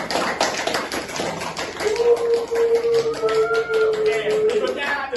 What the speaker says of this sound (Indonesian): beri tepuk tangan untuk atlet hoki